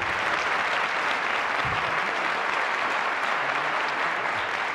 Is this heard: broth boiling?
no